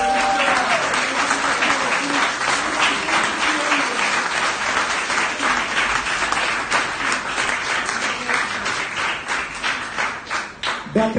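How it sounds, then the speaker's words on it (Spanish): Sustained applause from a church congregation during a Spanish-language sermon, dense steady clapping filling the room throughout, with a few voices and a tonal sound faintly beneath. "Den un aplauso al Señor."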